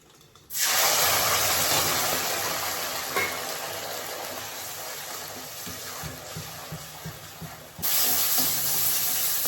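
Ground paste of tomato, coriander, cumin, turmeric and ginger hits hot oil in a pan with a sudden loud hiss and spray that holds steady for several seconds, fades slightly, then flares again near the end.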